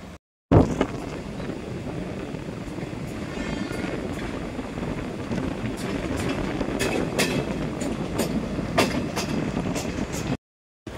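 The Guntur–Aurangabad Express rolls out of a station, a steady rumbling clatter of carriages with repeated sharp metallic clicks of wheels over rail joints, continuous and fairly loud, starting and stopping abruptly.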